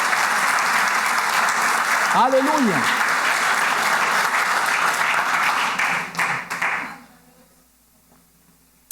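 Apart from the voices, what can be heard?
congregation applauding loudly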